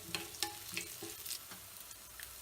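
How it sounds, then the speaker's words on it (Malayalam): Chopped ginger sizzles in hot oil for curd rice, a close, steady frying crackle broken by a few stirring scrapes and taps of the spoon. "അപ്പോൾ ഇഞ്ചി ഇട്ട് കൊടുക്കാം. ഇഞ്ചി എണ്ണയിൽ കിടന്ന് ഒന്ന് മൂത്ത് വരണം"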